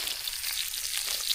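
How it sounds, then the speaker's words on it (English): Sausages fry over a campfire with a steady, bright, crackling sizzle, close up and continuous, with no voices. "Look at the sausages. Sizzle, sizzle, sizzle."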